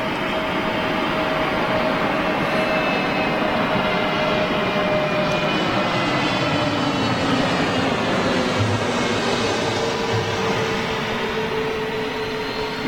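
An EasyJet Airbus A320neo at Gatwick Airport gives off a loud, continuous jet engine roar with steady whining tones, holding constant and close throughout, with no speech over it.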